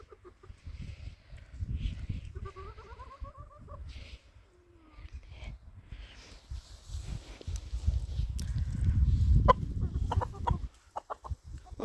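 A handsome, ringed rooster clucks and calls in a backyard poultry setting, with several short, rising clucks and a brief squawk, then louder rustling and bird noises building nearby.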